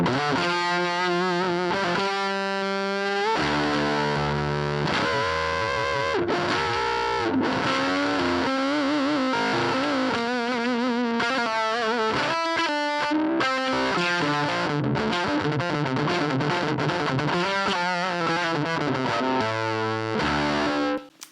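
Electric guitar through a KHDK Unicorn Blood 2 fuzz pedal with the fat switch on, thick saturated chords and riffs with short pauses and sliding notes, loud and continuous, no talking.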